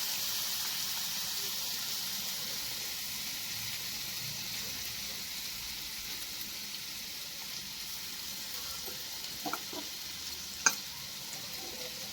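Pumpkin pieces fry in ghee for halwa with a steady, close, hissing sizzle throughout, broken near the end by a few soft stirring scrapes and one sharp clink.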